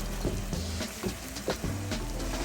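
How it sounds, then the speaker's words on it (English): Tomatoes going into a hot sizzling pot for Nigerian tomato stew, a steady close frying hiss with a few soft stirring knocks and splashes throughout. "I will add my tomatoes at this point."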